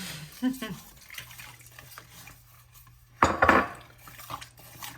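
Metal spoon clinks and scrapes in a pot of hamburger patties and gravy, with a low steady hum underneath and one louder burst of stirring clatter near the end.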